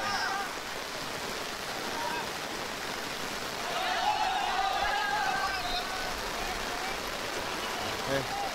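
Heavy rain falls steadily over an amateur football match, a constant hissing wash of drops with faint distant voices and a brief swell in the middle.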